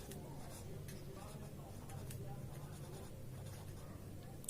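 Chalk or marker scratches across a board during an English grammar lesson, quiet intermittent strokes and taps under a low room hum with a teacher speaking softly in the background.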